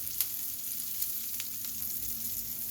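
A vegan chickpea burger patty frying in a pan on medium-high heat gives a steady, crackling sizzle with occasional sharper pops, continuous and close.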